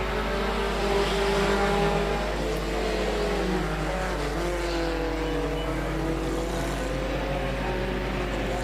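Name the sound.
stock cars racing on a track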